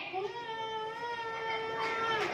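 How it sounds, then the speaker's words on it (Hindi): Sustained wailing cry with a steady, harmonic-rich pitch, heard from inside a metal cooking pot and continuing without pause, moderately loud over a faint background. "डेचकी के अंदर से रोने की आवाज मुसलसल आ रही है।"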